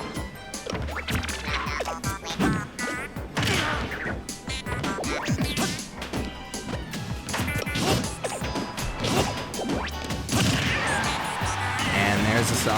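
Up smash attacks landing in a competitive fighting game match, a dense run of sharp smacking hits and crashes amid game effects and crowd noise, with a commentator talking over it.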